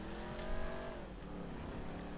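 Car engine in the video game GTA V revs and drones with rising and falling pitch, mixed with game music and effects at a moderate, steady level.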